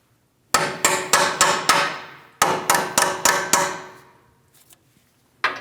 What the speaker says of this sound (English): A couple light taps should help drive these through